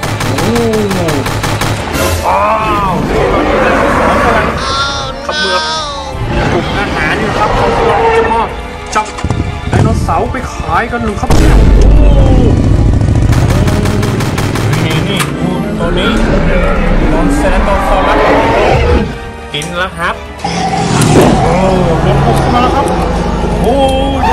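In a Jurassic Park dinosaur-park video game, a gun vehicle fires at a dinosaur in loud, rapid bursts of gunfire. Excited speech, roars and game effects run over the shooting in a busy, dense mix.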